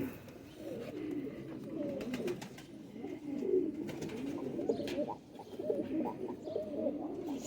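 High flyer pigeons, male and female, coo continuously and close by in soft, rolling low calls, with a few faint background chirps and clicks.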